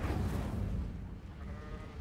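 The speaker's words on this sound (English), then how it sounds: "There's that bloody sheep again." A sheep bleats in Hogwarts Legacy, one wavering cry up close at the start that fades into low rumbling game ambience.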